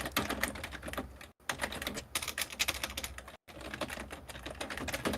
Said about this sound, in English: Typing ASMR.